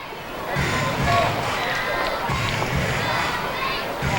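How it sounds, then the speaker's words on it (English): Steady crowd murmur at a minor-league baseball game at PeoplesBank Park, a dense, fairly close wash of chatter and ambient stadium noise with slight swells, no single standout cheer. "Nice crowd here tonight on Friday, PeoplesBank Park."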